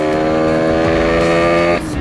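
Two-stroke motorcycle engine running steadily close by with a buzzy, even drone, then dropping in pitch near the end as the throttle eases off.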